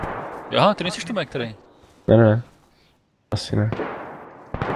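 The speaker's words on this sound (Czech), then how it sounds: "Slyším střelbu?" Gunfire in the DayZ video game, a few sharp loud bursts breaking through ongoing talk between players, with a short quiet gap in the middle.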